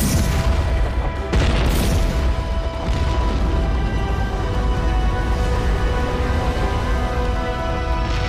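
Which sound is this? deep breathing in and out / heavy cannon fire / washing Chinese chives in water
heavy cannon fire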